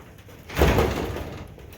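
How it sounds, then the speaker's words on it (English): A door blown open by gusting wind at a homestead gives one sudden, fairly close whoosh and thump midway, fading into a rustling tail over faint background air. "So getting a little windy. Blew the door open."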